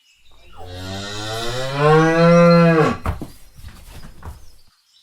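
A cow lowing once, a long, loud, drawn-out moo that rises and then fades, heard alone with nothing else around it.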